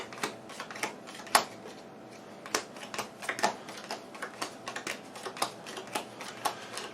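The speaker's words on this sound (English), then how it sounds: "Pile shuffling is boring" Pandemic Legacy board game cards being pile-shuffled by hand, a steady run of sharp dry taps and flicks as cards are dealt into piles, close and clear with no talk.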